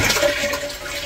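A toilet flushes in a Japanese apartment with a close, continuous rush of swirling water that holds steady for the whole moment.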